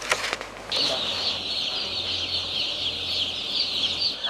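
Broiler chickens in an enclosed poultry farm building in Togo make a dense, continuous chorus of clucking and peeping, with a few sharp sounds at the start.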